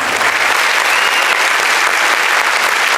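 A crowd at a school reunion for the 1994–99 batch of SRMO High School claps continuously, producing dense, loud, even applause with no breaks.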